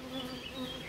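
Honey bees buzz steadily at an open hive during beekeeping work, a close, continuous droning hum with wavering pitch and no voices.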